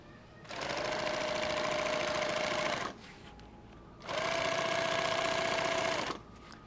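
A sewing machine stitches webbing on a kit bag in two steady runs of a few seconds each, separated by a short pause. The motor hums with a fast, even, buzzing rattle, close and alone.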